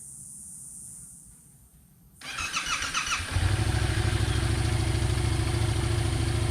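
A Yamaha MT-07 motorcycle starts after a brief whir of the starter, catching into a loud, steady, close idle that continues evenly to the end.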